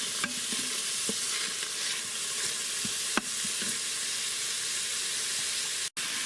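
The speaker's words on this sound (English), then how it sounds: "while our pepper and onion is sauteing up" Pepper and onion saute in oil inside an Instant Pot, a continuous close sizzle and hiss with a few sharp clicks and taps, no voices.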